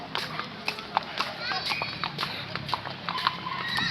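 Horse hooves clip-clop in a quick irregular rhythm during a ride in Baguio, close and distinct, with people talking over them.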